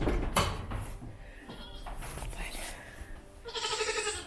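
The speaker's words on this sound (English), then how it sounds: "Still got sleeping goats this morning." Goats bleat inside a barn in the early morning, a few wavering calls rising near the end amid rustling, light thumps and brief human speech.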